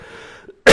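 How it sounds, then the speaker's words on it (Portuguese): A single loud, sharp cough bursts out after a stretch of quiet, low background talk, a short harsh burst close to the microphone. "desculpe a minha tosse"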